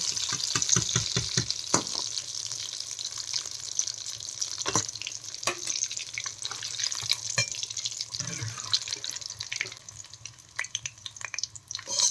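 Bhetki fish fillets for homemade fish fry frying in oil; a steady hissing sizzle close by, with scattered clicks and taps from the pan, no speech.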